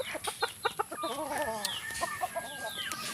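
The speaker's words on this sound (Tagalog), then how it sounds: "Ang mga manok natin ay gugutom na." Hungry chickens at a rural Philippine farmyard cluck in short repeated bursts, with a rooster's wavering call in the middle, moderately close against faint background noise.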